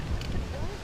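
Wind gusts buffet the microphone at an outdoor golf croquet world championship, a brief, low rumbling roar with a faint voice underneath.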